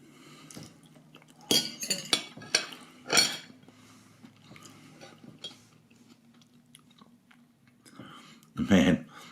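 Someone eats a pastry-free egg, bacon, mushroom and cheese pie with cutlery, making several sharp clinks of a fork on a plate and soft chewing, with a person speaking between bites.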